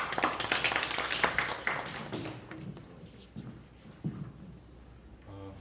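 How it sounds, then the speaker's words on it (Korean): Scattered clapping from the audience at a university workshop lecture, a brief burst of claps at the start that thins to a few taps and fades out under a quiet room. "박수를 한번 모시겠습니다."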